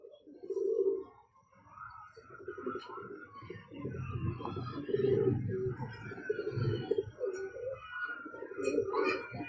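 Teddy pigeons coo in low, throaty bursts, with soft bird chatter and rustling mixed in close by.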